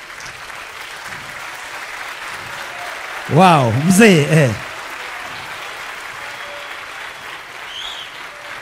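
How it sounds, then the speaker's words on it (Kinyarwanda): An audience at a Rwandan talk-show event gives steady, moderately loud applause throughout, and a man briefly exclaims over it. "tumukomera amashyi menshi cyane"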